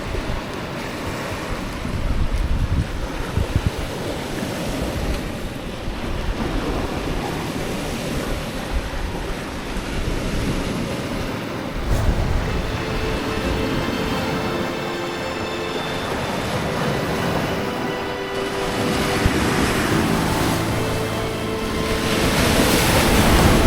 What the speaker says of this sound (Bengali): কি পরিমাণ জলের স্রোত বইছে কি পরিমাণ জোয়ার খেলছে